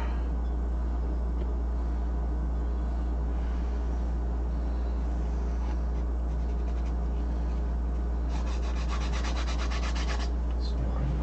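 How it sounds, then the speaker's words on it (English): Scouring brush scrubbing gunk in a video game, a continuous dry rubbing and scraping texture that holds steady throughout, with a brief burst of faster, brighter bristle strokes near the end and no talking. "Brush will make short work of all the gunk on the bottom."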